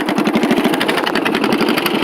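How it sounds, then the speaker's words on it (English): Riding lawn mower tractor engine with a loud aftermarket exhaust, running close and steady with a rapid pulsing putter that stays loud and uninterrupted throughout. "It's a tractor."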